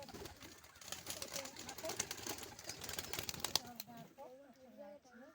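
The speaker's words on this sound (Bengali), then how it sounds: "সারাদিন কাজে বসে বসে পায়রা ছোলা কাটছে ছোলা" Pigeons pecking chickpeas make a rapid patter of small clicks and taps, mixed with soft cooing and a brief flutter, while a person talks quietly toward the end.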